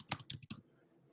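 A quick burst of about five sharp clicks on a computer keyboard, close and quiet, followed by near silence.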